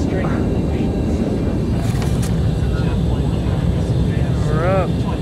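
Steady, loud broadband roar of engines aboard a large private jet, a continuous cabin rumble that fills the whole stretch, with faint voices briefly surfacing beneath it.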